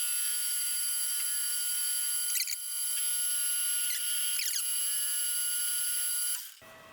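Steel arbor shank being turned on a lathe at around 910 RPM with a cheap carbide insert, giving a steady, loud high-pitched machining whine with brief scraping bursts, which stops abruptly near the end.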